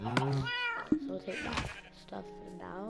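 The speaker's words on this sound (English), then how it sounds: "That's my cat" A cat meows in a block-building survival game, several short tonal calls between stretches of someone talking.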